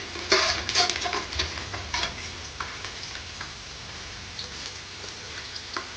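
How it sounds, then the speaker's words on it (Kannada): Garlic frying in hot ghee left over from roasting cashews for ghee rice, with a steady soft sizzle broken by light ticks and scrapes of stirring, close and moderately quiet. "ಗೋಡಂಬಿ ಹುರಿದ ತುಪ್ಪಕ್ಕೆ ಬೆಳ್ಳುಳ್ಳಿ ಹಾಕೊಂಡು ಹುರ್ಕೊಳ್ಳೋಣ"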